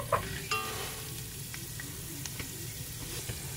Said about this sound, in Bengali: এবার কয়েকটা ছোলার ডাল নিয়েছি, ডালগুলো ভালো করে ভেজে নেব।